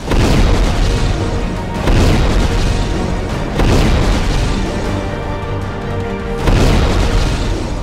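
Air strikes on the Gaza Strip set off repeated heavy explosions, a series of loud booming blasts every second or two with rumbling in between, dense and distorted, with no speech.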